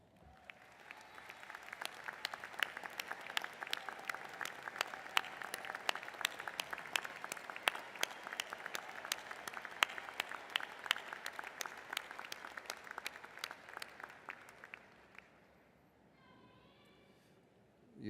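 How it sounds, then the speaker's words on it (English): Audience applause at a 2019 graduate commencement ceremony: a large crowd claps loudly and steadily for about fifteen seconds, with some sharper individual claps standing out, before the applause fades to quiet. "please rise so that we can give you a round of applause"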